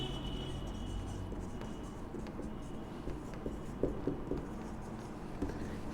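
A marker or chalk writes a note on a board during a chemistry class, giving faint scattered scratches and taps over a steady background hum in a quiet room, with no one speaking.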